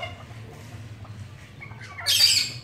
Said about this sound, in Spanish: El gallinero.